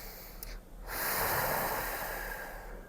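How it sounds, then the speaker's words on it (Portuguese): A person takes a deep breath. A long, airy inhale and exhale plays close to the microphone against a steady background hiss. "Respirando fundo."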